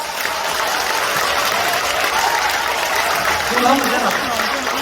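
Members at a People Power Party training gathering in Gumi applaud together, a dense, continuous wash of clapping filling the hall while a voice speaks briefly toward the end.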